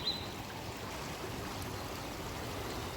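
Water flowing in a small stream beside a river near a bridge, a steady soft wash that runs without a break and sits at a moderate distance.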